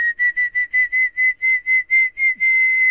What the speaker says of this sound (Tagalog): Sumisipol din sila para lumakas ang hangin para lumipad mga saranggola nila.